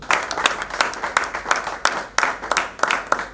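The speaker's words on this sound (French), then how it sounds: "Et on peut applaudir." An audience claps in a quick, uneven rhythm, with distinct sharp claps rising and falling over a few seconds, close and fairly loud.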